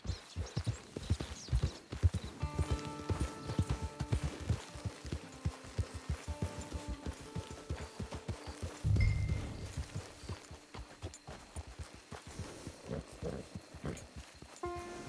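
Steady clip-clop of horse hooves trotting along in the video game Red Dead Redemption 2, rhythmic and fairly close, with a brief snort or shuffle partway through.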